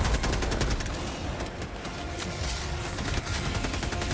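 Machine gun turret fire in the video game Helldivers 2, a loud, sustained stream of rapid shots hammering on for several seconds with a brief dip in the middle.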